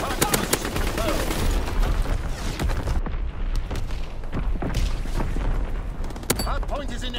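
An artillery battery fires in a Call of Duty WW2 Hardpoint match on the USS Texas, sending out repeated deep booms mixed with dense gunfire across a loud, chaotic battlefield, with voices talking throughout.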